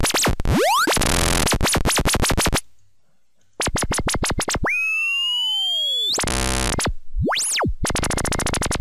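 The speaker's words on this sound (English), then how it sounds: "just by modulating the pitch with an LFO, you can get that sound of a laser" Synthesized laser zaps made in NI Massive with LFO pitch modulation: loud, bright electronic tones that sweep rapidly up and down in pitch, some in fast repeating pulses. They come in bursts with a brief silent gap midway.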